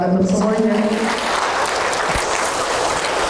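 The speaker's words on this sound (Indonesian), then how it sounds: "Tepuk tangan untuk semuanya." A seated audience at a parenting seminar breaks into loud, dense clapping that runs throughout, with a voice speaking over the start.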